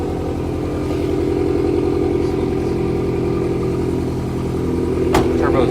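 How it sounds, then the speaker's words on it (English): A 2008 Subaru STI turbo engine runs at a loud, steady idle with a throbbing, rhythmic burble, heard close up, and a brief clatter near the end. "Turbo is very nice and loud."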